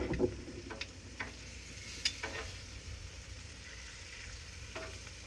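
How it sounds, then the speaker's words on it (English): Ribeye steaks and smoked sausage sear in a pan with a quiet, even sizzle, broken by a few sharp ticks and clinks of handling. No voices. "We got those ribeyes seared all the way around."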